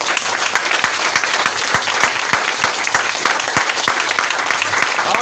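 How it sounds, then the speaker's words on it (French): A church congregation gives dense, sustained applause for Jesus Christ. Steady clapping fills the room at close range with a few sharp claps standing out, and faint voices mixed in. "Est-ce que vous pouvez acclamer pour le Seigneur Jésus-Christ?"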